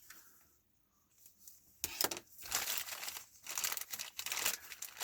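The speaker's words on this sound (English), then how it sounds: "Sharp objects to cut the plastic off" Plastic model kit parts for a 1/24 scale 2018 Ford Mustang Snap-tite kit being cut from the sprue with a knife, heard as quiet, close crinkling and scraping in irregular bursts after a near-silent start.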